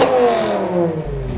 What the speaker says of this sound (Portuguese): E se liga só no motor, mano.